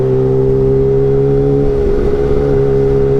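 A Kawasaki Ninja H2 motorcycle engine running loud and close, a strong steady droning rev with a brief dip and recovery midway.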